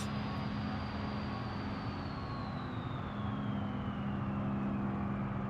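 Low, steady truck engine rumble in BeamNG.drive, with a faint descending whine above it, droning continuously and fairly quietly.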